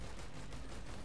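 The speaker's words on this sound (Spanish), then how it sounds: "Lo que decía, el gatillo derecho disparamos." Rapid gunfire from a weapon in the video game Risk of Rain 2 fires in a dense, continuous burst that fills the whole short moment at steady loudness.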